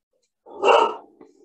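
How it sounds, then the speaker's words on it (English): A single short dog bark rings out indoors in a home during a remote chat, sudden and fairly close, followed by a faint trailing whimper, with silence before it. "Good girls don't bark."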